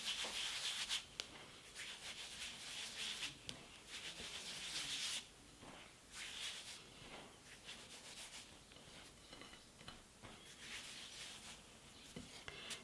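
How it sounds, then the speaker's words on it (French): Yeast being mixed by hand into dry flour for low-yeast pizza dough makes a steady, close rubbing and scraping sound, with brighter swishing bursts over a soft background and no talking. "Je vais bien mélanger ma levure à la farine"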